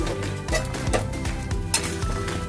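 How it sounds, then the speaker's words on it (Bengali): Chutney thickened with cornflour is stirred in a pan, a steady scraping of the spoon in a repeating rhythm over a soft sizzle, close and without talk. "আমাকে কন্টিনিউয়াস একটু নাড়তে হবে"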